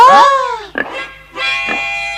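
Cartoon pig in a Tom Sawyer animation giving loud, close squeals and grunts in two bursts, with a short pause between them.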